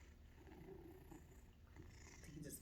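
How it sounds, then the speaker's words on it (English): A pet cat named Dancer purrs softly and steadily up close, a faint continuous low rumble with no talking. "He just purring and stuff."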